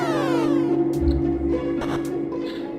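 A sound effect from the Final Fantasy 3 video game: layered synthetic tones with a low hum, sweeping bursts and brief noisy blips, playing alone.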